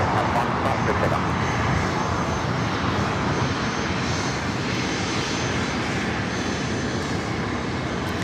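A Challenger 300 business jet takes off at LAX, its engine roar loud and broadband, holding steady for the whole stretch.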